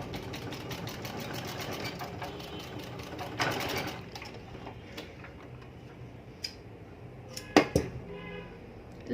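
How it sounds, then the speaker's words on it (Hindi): A sewing machine stitching elastic onto a baby skirt, running in a steady rapid tick for several seconds, then stopping and giving way to a few scattered clicks and handling sounds, close and fairly quiet. "अब मैं ये इलास्टिक इस तरह से रखूँगी और इसको सिलाई लगाऊँगी।"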